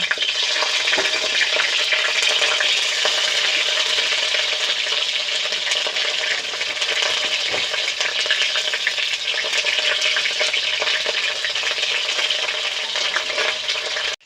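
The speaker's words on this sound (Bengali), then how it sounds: "যেহেতু জল থেকে তুলেছি তাই একটু আওয়াজ হচ্ছে কারণ তেলের মধ্যে দিচ্ছি" Wet pieces fresh from water hit hot oil in a pan and are stirred, giving a loud, dense, continuous sizzle and crackle with faint scraping, cutting off abruptly at the end.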